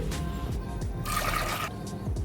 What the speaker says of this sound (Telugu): కుక్కర్లోకి శనగపప్పు వేసుకోవాలి ఒక కప్పు శనగపప్పుకు రెండు కప్పులు నీళ్లు వేసుకోవాలి